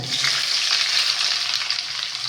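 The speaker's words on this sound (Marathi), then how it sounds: "खडे मसाले टाकल्यानंतर चांगला तडका बसल्यानंतर 2 कापलेले कांदे" Chopped onions drop into hot oil tempered with whole spices for veg biryani, giving a continuous loud frying sizzle, close and even, with no speech.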